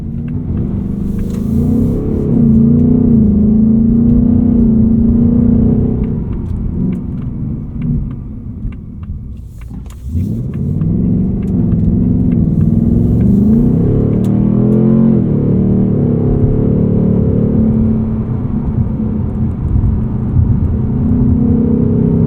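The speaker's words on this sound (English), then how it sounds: "You guys can get a pretty good idea for the engine, the transmission feel just from listening to it in the video." A 2024 Ford Mustang GT Coupe Premium with its V8 and 10-speed automatic drones loudly from inside the cabin, engine note rising and falling through shifts, with a brief dip and re-acceleration midway.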